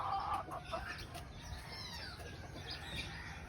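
A white calso gamefowl broodcock in a breeding yard gives short clucks and calls amid wing flaps and a few chirps from other birds, fairly close, with no talking.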